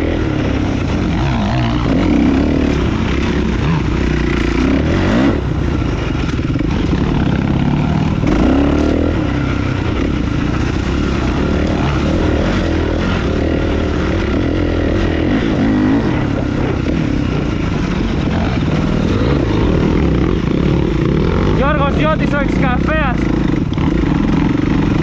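An enduro motorcycle engine drones loudly and continuously while riding through the countryside around Meteora, with steady rough rumbling and wind buffeting the microphone throughout.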